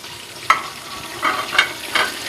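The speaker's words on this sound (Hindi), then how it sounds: "आँच तेज है, इसके ऊपर अदरक लहसुन के साथ मैं अपने गरम मसालों को भून लूँ।" Whole garam masala spices, including cloves, frying with ginger and garlic in a pot over high heat, giving a soft steady sizzle with a few brighter crackles and stirring scrapes.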